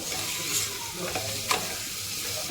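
Finely sliced onions fry in a pan over a low gas flame, giving a steady close sizzle with occasional scraping from stirring.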